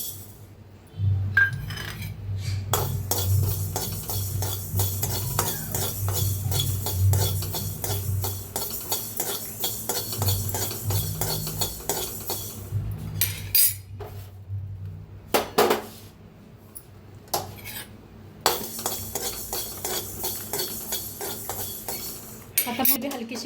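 Mustard seeds roast in a pan while a spoon stirs and scrapes the metal, giving repeated clinks and scraping with brief pauses, with someone talking at times.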